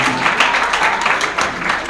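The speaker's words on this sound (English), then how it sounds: "Let's give him another round of applause." Audience at a Kashmiri American Alliance New Year celebration and opening ceremony applauding, a dense steady patter of many hands clapping close by for about two seconds.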